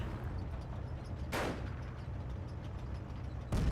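A sector artillery barrage in Company of Heroes 1 lands as two heavy booms, one in the middle and one at the end, over a low rumbling battlefield.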